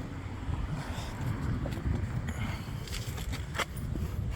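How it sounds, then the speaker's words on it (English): Wind buffets the microphone with low, rumbling gusts throughout during an outdoor oil change on a Mercedes ML250 Bluetec, with faint scattered knocks and rustles underneath. "it's a little windy today"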